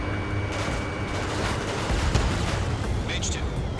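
Ace Combat 7 combat: a vehicle explodes amid steady gunfire, a dense, loud, continuous rumble with crackling shots and blasts throughout.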